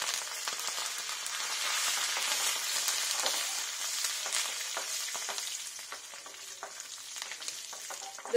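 Mustard seeds, fenugreek, dried chillies and curry leaves crackle and sizzle in hot coconut oil, a steady bright spattering with close popping throughout.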